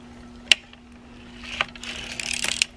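Circular sock machine knitting across a row while the toe is shaped, giving sharp mechanical ratchet-like clicks: one at the start, one midway, then a dense clattering run near the end, over a steady low hum.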